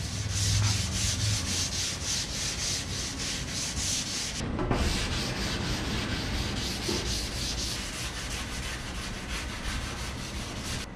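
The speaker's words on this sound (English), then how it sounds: "400 is gonna be much easier to sand because we're just refining the scratch right now" Hand sanding a car body panel with 400 grit paper on a DuraBlock, a close, steady rhythmic scrubbing of quick back-and-forth strokes lasting throughout, with a brief knock midway.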